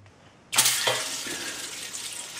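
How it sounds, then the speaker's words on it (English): Cold tap water gushes into an empty homebrew keg, starting abruptly after a brief quiet moment and settling into a steady, hollow rushing fill that continues to the end. "I always fill my keg with 10 liters of cold tap water."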